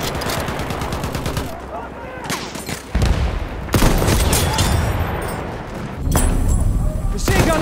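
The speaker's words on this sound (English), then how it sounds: "Machine gun! Over there!" Machine gun fire in the battlefield shooter game Battlefield 1, bursts of rapid automatic shots mixed with heavier booms and distant gunfire, loud and chaotic, with soldiers shouting over the fighting.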